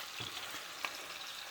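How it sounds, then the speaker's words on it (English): Longanisa sausage frying in oil in a home kitchen pan gives a steady, soft sizzle throughout, with one brief sharper pop partway through and no talking. "Okay, now I'm frying the longanisa."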